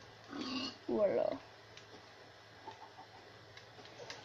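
A pig in the Minecraft video game gives two brief grunting oinks close together early on, followed by quieter game sounds while someone speaks briefly.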